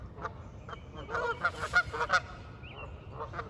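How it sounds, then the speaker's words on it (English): Geese honking across the water on a spring morning by a northeast Ohio fishing spot, a chatty series of nasal calls at mid distance, clustered in the middle and trailing off into scattered honks. "we got the geese over there"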